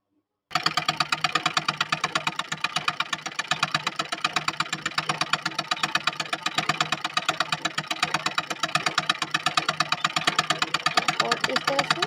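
Sewing machine stitching a size 36 kurti near the sleeve, running steadily for about twelve seconds with a fast, even mechanical chatter and a constant rhythmic pulse, loud and close.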